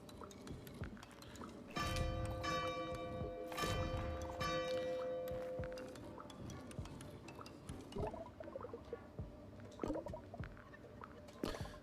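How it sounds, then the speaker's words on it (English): Bells ringing in the video game Arranger, bright chiming tones that sustain and overlap in the first half, then fade into scattered small clinks and ticks. "you have to ring all of the bells"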